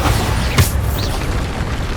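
A single short magical blast, the Depulso spell cast in Hogwarts Legacy, bursts out as a sharp boom mid-clip over a steady background of game ambience.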